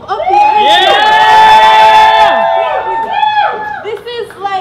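Audience at a live slam poetry show cheering loudly on cue, a burst of whoops and high shouts that swells, then breaks into scattered voices and trailing yells.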